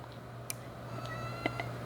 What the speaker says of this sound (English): that was my cat, if you heard her.